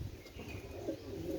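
Domestic pigeons coo softly in a loft, a brief low murmuring call rising near the end over faint background noise.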